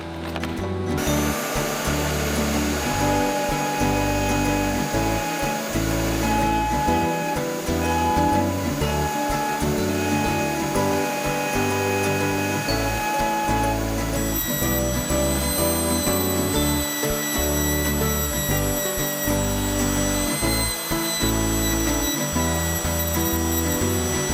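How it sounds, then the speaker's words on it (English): A Dremel rotary tool carves letters into a wooden door sign with a continuous high-pitched whine and a steady grinding buzz that never stops. "we decided to make it like a craft, so we used the Dremel"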